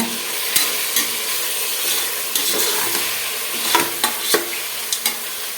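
Marinated chicken sizzles steadily in a hot pan while a utensil scrapes and stirs, with several sharp knocks and clatters against the pan.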